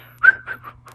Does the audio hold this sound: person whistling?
yes